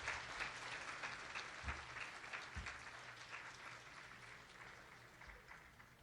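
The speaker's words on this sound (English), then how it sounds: "clap your hands and give them a warm welcome" Room audience clapping to welcome Commissioners Valez and O'Dowd, a faint, even patter of applause heard from a distance with a low hum and a few soft knocks beneath it.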